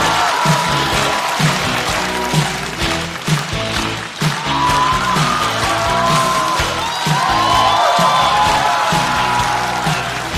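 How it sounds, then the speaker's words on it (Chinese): A stand-up comedy audience applauds and cheers as comedian Ji Ye comes on stage, steady clapping and whoops filling the room throughout with faint music underneath. "掌声欢迎季业"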